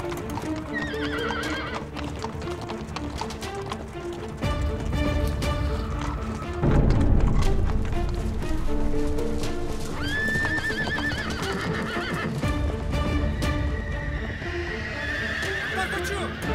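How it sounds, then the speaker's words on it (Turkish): Horses bolt toward a forest, a dense clatter of galloping hooves rolling continuously and loudly while several sharp whinnies and neighs ring out over the pounding rhythm. "Atlar kaçıyor! Ormana doğru gidiyorlar!"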